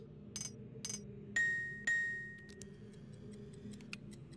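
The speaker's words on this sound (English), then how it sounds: "there's only two chimes." Chimes in the 1997 video game Riven: two clear ringing tones with lingering decay, preceded by soft clicking taps and followed by faint scattered ticks over a low ambient hum.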